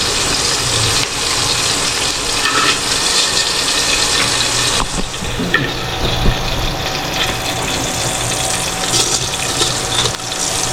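Steady, dense sizzling hiss of garlic frying in a pan, loud and continuous throughout with no talking.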